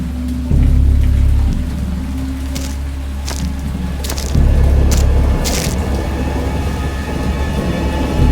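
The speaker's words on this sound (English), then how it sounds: "I have indistinct recollections of a great storm sometime after I reached the boat." A heavy storm sound effect for a horror audio adaptation: steady loud rain with two deep rolling thunder rumbles and sharp crackling strikes, no voices.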